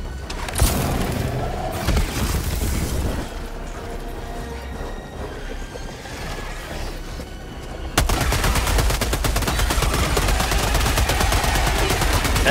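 Rapid SMG bursts from the video game Helldivers 2, loud and dense, with one continuous stream of rattling fire in the second half following scattered combat noise, and a voice briefly heard.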